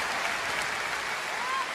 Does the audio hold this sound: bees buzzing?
no